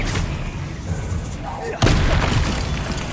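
An Expelliarmus spell cast in the Hogwarts Legacy video game hits with a sudden sharp crack and a booming, crashing impact that rumbles on under steady game ambience, with a voice heard in the game audio.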